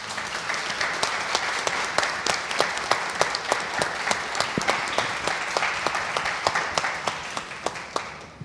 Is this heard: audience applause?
yes